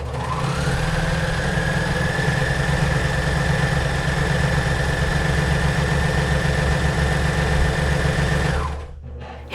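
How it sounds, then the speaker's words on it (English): A cover stitch sewing machine runs steadily for about nine seconds, stitching across a hemmed piece of knit fabric, a close continuous motor hum with fast rhythmic needle chatter that stops abruptly at the end. "we're going to sew with a stretch stitch, cover stitch, or twin needle across this, this piece that we just hemmed"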